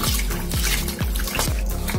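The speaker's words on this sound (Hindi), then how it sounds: "तो चलिए पहले इसे धो ले रहे हैं अच्छे तरीके से" Taro root is washed in water in a home kitchen, with loud close-up sloshing and splashing in a container coming in a quick, regular rhythm of strokes, with no voices.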